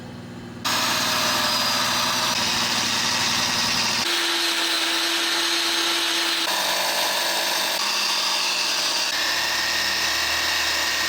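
A power polishing tool runs steadily on a glass bulb at 6,000 grit, a loud continuous whine with shifting pitch and several abrupt changes in tone, no voices.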